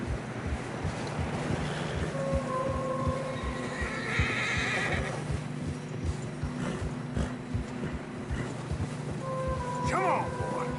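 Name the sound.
horse neighing and hooves in snow, video game Red Dead Redemption 2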